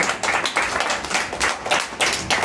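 Church congregation clapping their hands together in a steady, continuous rhythm, close and fairly loud with no talking over it.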